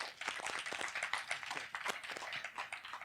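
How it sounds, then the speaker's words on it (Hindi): An audience claps loudly at a talk session, with a dense patter of many hands that continues for a few seconds. "ताली बजा जोरदार यथार्थ को"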